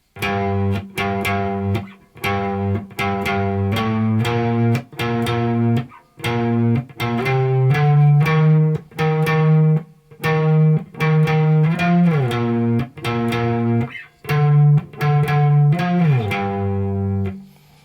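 Electric guitar plays a chorus riff, a repeating pattern of plucked chords and single notes with effects-laden, slightly distorted tone, loud and close, played in short phrases separated by brief pauses, no voices.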